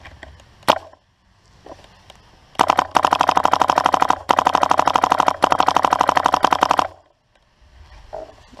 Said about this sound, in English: I'm gonna try and shoot the camera